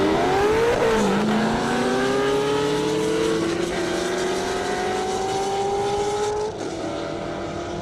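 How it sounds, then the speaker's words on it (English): Two drag racing cars launch hard at an airport strip, engines screaming and rising in pitch through repeated gear shifts, loud and continuous as they pull away. "Getting ready to launch these two cars up in the front."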